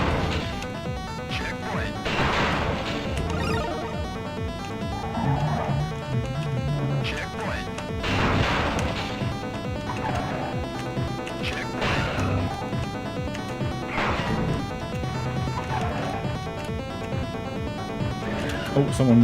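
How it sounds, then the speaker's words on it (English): Cars crash and smash repeatedly in the Need for Madness racing game, loud clattering impacts and metallic bangs recurring over a busy game soundtrack with a voice talking throughout. "We're smashing everyone up."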